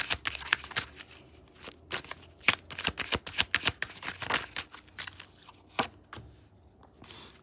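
A deck of tarot cards is shuffled close by, a quiet flurry of crisp riffles and slaps in uneven bursts, with no talking.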